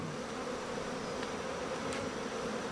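Honeybees in a queenless hive with laying workers, a continuous, even, droning hum of many wings, steady and close without pauses.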